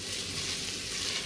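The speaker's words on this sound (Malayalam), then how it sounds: "മുട്ടേനെ ഒന്ന് നല്ല ഞാനിങ്ങനെ ഇളക്കി കൊടുക്കുന്നുണ്ട്" Egg fries in a pan with a steady, close sizzle and hiss while being stirred, the crackle continuous and even throughout.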